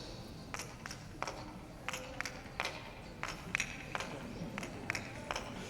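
Sharp wooden taps of a kendama click at an irregular pace, about a dozen knocks of wood on wood, moderately close, over a soft background hiss.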